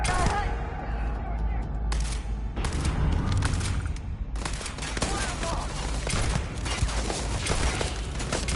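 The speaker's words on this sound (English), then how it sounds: "I'm taking fire!" Heavy firefight in Starfield, with loud rapid bursts of gunfire and booming shots pounding almost without pause; a player's voice comes through faintly under the shooting.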